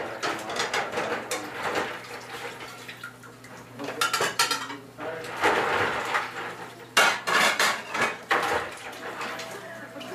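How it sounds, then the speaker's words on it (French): Dishes, pots and cutlery clattering and clinking during washing up at a sink, irregular close knocks and scrapes with a low steady hum underneath. "pendant que moi je fais la vaisselle"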